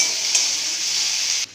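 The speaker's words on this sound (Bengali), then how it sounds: "এবার আদা রসুনটা দিয়ে দেবো। এটা একটু ভালো করে ভেজে নেব আমরা।" Ginger and garlic sizzle steadily in hot oil in a pan, a continuous close frying hiss with a brief stir partway through, then cutting off near the end.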